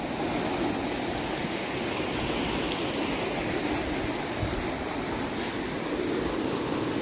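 Forceful water rushes through a canal in a loud, steady, broadband roar that stays constant and close throughout, with no talk over it.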